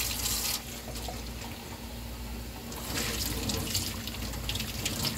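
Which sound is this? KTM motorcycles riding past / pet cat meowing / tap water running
tap water running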